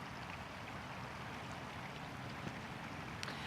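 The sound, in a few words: flowing water of the Stilly River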